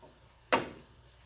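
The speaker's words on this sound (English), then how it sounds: "I'm gonna give it another stir." A single brief scrape of a utensil stirring food in a pan, a short soft swish rising out of quiet kitchen background and fading quickly.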